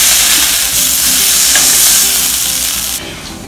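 Vegetables with black and white sesame seeds being stirred in a hot pan, giving a loud, steady sizzle and scraping that runs almost throughout, then drops suddenly near the end.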